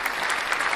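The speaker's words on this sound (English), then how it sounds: "Round of applause." Audience applause from a live show crowd, a brief, steady burst of clapping at moderate loudness.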